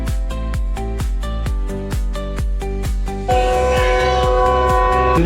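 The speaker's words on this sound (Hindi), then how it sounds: "डूबे हुए टंडो आदम में ट्रेन हमारी अप्रोच कर रही है" A train approaches through flooded Tando Adam in Sindh, with a rhythmic, loud engine throb and clanking beat that shifts to a sustained horn-like tone near the end.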